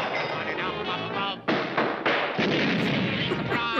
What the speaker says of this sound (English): Random gunfire and explosions.